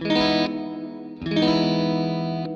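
Electric guitar through reverb with the bass parameter turned all the way up, two sustained chords each swelling into a thick, washy cloud of low-heavy ambience, alone.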